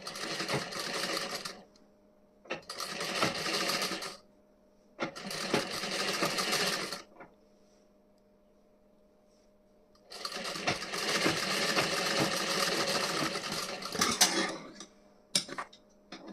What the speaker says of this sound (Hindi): उसके बाद इस पर हमें एक कच्ची सिलाई लगानी है यहाँ पे।